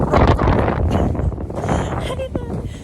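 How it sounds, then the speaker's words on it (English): Strong wind rumbles and buffets the microphone throughout, with a voice speaking over the gusty noise. "Oh, it's so windy."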